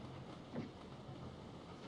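A train rolls along in the Sid Meier's Railroads video game, a steady low rumble of rail cars with a faint clickety-clack, with no talk over it.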